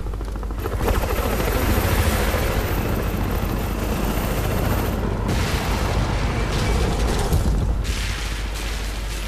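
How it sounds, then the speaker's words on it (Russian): Helicopters thunder in the shooter game Crysis 2, a loud rotor roar mixed with booming impacts and gunfire bursts, continuous and dense with brief dips. "Вертолеты."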